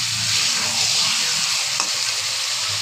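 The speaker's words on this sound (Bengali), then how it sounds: "এবার আমি দিয়ে দিব জল।" Water poured into a hot pan of desi-style chicken gravy with fried potatoes, giving a steady, loud hiss and sizzle throughout, close up with no talking.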